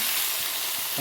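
Onions drop into a pan of potatoes frying with green chillies, giving a loud, continuous sizzle up close, with a brief tonal hum at the very end.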